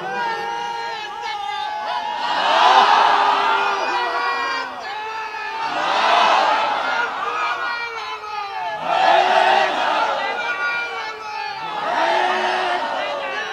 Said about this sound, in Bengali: দেখি একজন তাকবীর দিবেন, পুরা মাঠ প্রকম্পিত।